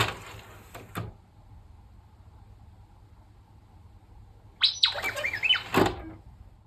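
After a click and long quiet, a flurry of chirpy R2-D2 droid beeps and warbles rises up as a Star Wars limited edition console's disc tray opens, ending with a brief clunk.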